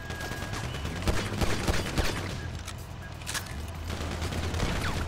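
Pistol gunshots in GTA 5, fired as rapid repeated cracks in a steady busy stream over continuous game noise and a low hum, loud and close throughout.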